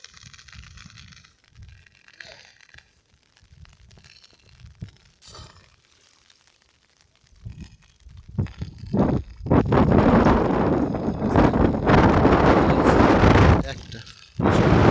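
Strong gusts of wind buffet a rural Bangladeshi village during rainy-season rain, quiet at first with faint voices, then a loud sustained roar of wind battering the microphone for the latter half.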